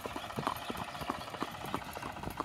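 A racehorse in training being led to the field, its hooves clip-clopping in a steady walking rhythm, close and moderately loud with a faint background hum.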